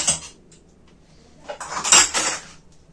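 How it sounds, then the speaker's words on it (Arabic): Dishes and cutlery clatter in a home kitchen, a short burst of clinks at the start followed by a louder run of overlapping clattering near the end, fairly close, with no one talking. "ما في حياتي شفت المواعين دي كلها"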